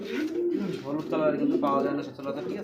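Domestic pigeons, a breeding pair of male and female birds offered for sale, coo in a repeated throaty rhythm close by, with someone talking over and around the calls.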